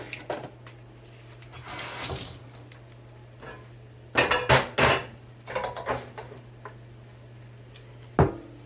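Couscous being spooned onto a plate, with a few scattered clinks and scrapes of a utensil on the dish at close range, separated by quiet gaps.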